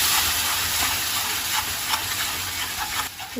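Blended tomato is poured into sautéed masala for a special kofta curry. It sets off a loud, steady sizzle and hiss that fills the whole stretch, with faint stirring scrapes and small bubbling pops on top.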